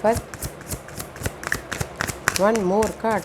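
Tarot cards are shuffled in quick, riffling bursts close to the microphone, while a person talks over them throughout.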